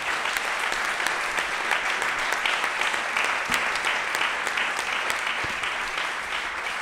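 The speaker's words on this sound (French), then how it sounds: "j'aimerais vous demander à nouveau d'applaudir nos 6 panélistes" A large conference audience at an IAS event in Montréal applauds its six panelists, a steady, even wash of many hands clapping that holds at a moderate, distant level throughout.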